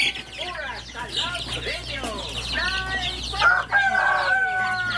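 A large flock of over 400 chickens, including Rhode Island hens and their chicks, clucks and chatters continuously nearby. A rooster crows partway through, against a low background hum.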